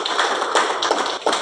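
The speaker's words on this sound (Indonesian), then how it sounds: "Boleh tepuk tangan yang keras buat Tuhan Yesus." A church congregation claps together for Jesus during a sermon, with a dense, steady patter of many hands and a few louder bursts standing out, sounding fairly close and lively.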